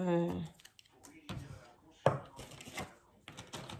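A knife chops pieces of food for a Halloween dish, giving a few separate close taps on a cutting board between stretches of someone talking in French.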